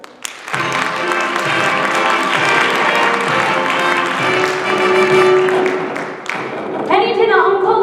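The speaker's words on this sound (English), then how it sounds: "a warm round of applause, if you will, for our guest artiste tonight" Audience applause for a guest performer at a stage musical theatre production, a loud sustained round of clapping lasting several seconds with music and voices blending in toward the end.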